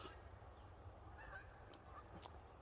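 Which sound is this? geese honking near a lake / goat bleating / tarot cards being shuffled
geese honking near a lake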